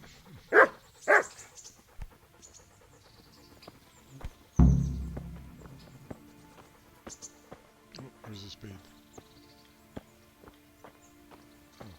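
Dogs in the medieval video game Kingdom Come: Deliverance give a couple of sharp barks, then a heavy thump, followed by scattered footsteps and faint clatter, with voices talking in the background.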